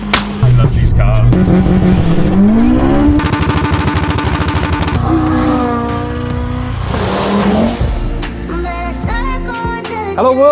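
Honda Civic EP3 Type R with a naturally aspirated engine making 253.5 bhp, revving hard and climbing through the rev range in loud, close, sustained bursts, with the pitch rising and falling between pulls, alone without talk.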